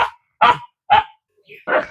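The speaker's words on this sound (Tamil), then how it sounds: "அனாதையாக வந்த நாயை வந்து அழுகுது பாருங்க" An abandoned stray dog barks close by, four loud, sharp barks in quick succession with a faint whine between the last two, and no other sound around them.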